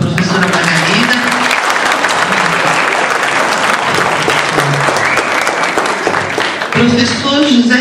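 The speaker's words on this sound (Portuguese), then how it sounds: "Vamos aplausos para a professora Margarida." Audience applause for a professor at a business administration week debate, loud steady clapping throughout with some voices speaking over it.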